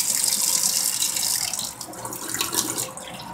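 Water running steadily from the tap of a Chinese countertop water filter, a continuous close hissing flow into a sink that wavers slightly but never stops.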